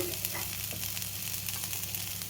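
Boiled cluster beans fry in a pan with coconut, giving a dense, steady sizzle with soft stirring scrapes, close and continuous, with no voices.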